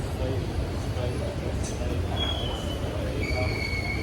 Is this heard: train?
yes